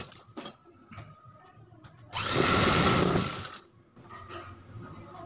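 A sewing machine runs in one burst of just over a second, stitching the centre seam of a blouse, whirring close and loud between quiet handling clicks and rustles.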